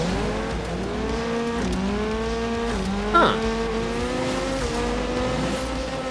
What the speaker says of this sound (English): this car has a very peculiar engine noise. It has some whine